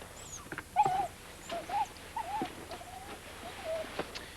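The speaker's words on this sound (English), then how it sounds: "This dog has gone nuts." A dog in a 1960 comedy film whines and whimpers in faint, high, wavering cries with short yelps, spaced over a quiet, hissy background.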